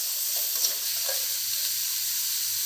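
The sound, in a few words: onions and tomatoes sautéing in a pan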